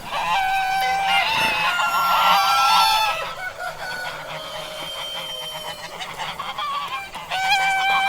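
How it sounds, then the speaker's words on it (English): Loud, close honking and quacking waterfowl calls repeat in irregular bursts through the whole stretch, harsh and nasal, with no voices over them. "Duck."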